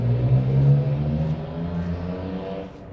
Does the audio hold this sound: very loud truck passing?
yes